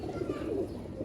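A Sialkoti pigeon, a rooftop breeder bird, gives a low, soft, throaty coo at close range, with faint background noise.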